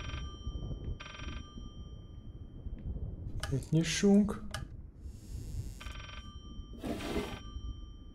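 Telephone bell rings inside the horror video game Layers of Fear: a few separate bursts of a bright, shrill ring, spaced apart, heard while someone talks quietly over the game audio.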